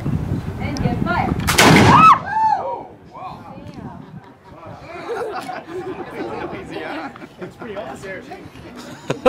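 A single loud musket shot at a historical military reenactment booms out near the start, followed by a crowd's chatter and voices continuing underneath.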